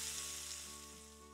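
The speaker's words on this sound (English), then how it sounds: "Add the onions and the garlic at the same time and sauté." Onions and garlic sizzle in bacon fat inside a cast iron camp Dutch oven, a steady, soft frying hiss that fades slightly toward the end with no voices.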